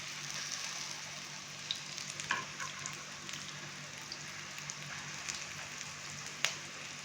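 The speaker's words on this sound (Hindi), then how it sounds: "टिक्की की दूसरी साइड को भी हमने अच्छे से फ्राई कर लिया है" Potato and gram flour tikki frying in oil, a soft, steady sizzle with scattered small pops and crackles, fairly quiet and continuous with no talking.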